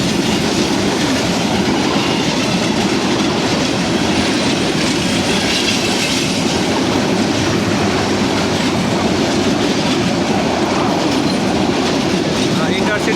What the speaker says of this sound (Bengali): Intercity train. এটা কিন্তু ঢাকার উদ্দেশ্যে রওনা দিয়েছে, চলে গেল ঢাকাতে।